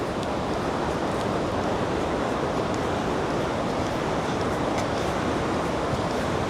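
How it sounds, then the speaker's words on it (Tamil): A loud, constant roar of rushing water from Niagara Falls at night, broad and unbroken like a large waterfall nearby, with no voices heard. "எத்தனையோ கிலோமீட்டர் கணக்கில் இருக்குங்க சத்தம், அருவியுடைய சத்தம்."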